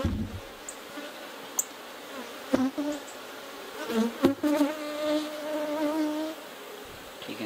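Honeybees buzz around an open hive while it is being split, with a close, wavering drone rising and falling as individual bees pass near, heard without talk.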